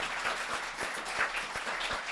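Audience at a design event applauding in a short, even burst of many hands clapping, moderately loud with no speech over it.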